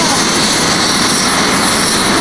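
A helicopter in flight over the USA, its engine and rotor making a loud, steady, close roar that fills the whole moment without letup.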